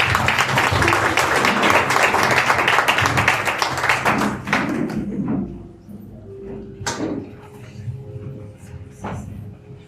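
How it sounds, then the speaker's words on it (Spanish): A church congregation claps loudly together for several seconds, then the applause thins out and fades to a few scattered sounds. "¿Qué tal si le damos un aplauso al Señor?"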